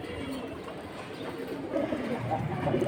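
Low, murmuring coos from several silver pigeons overlap in a steady background chorus, close by and moderately loud, with no talking.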